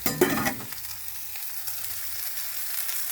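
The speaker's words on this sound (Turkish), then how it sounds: "kızartıyorum köftelerimi" Soft, steady sizzling of meatballs frying in a pan, following a brief clatter at the start; fairly quiet and without voices.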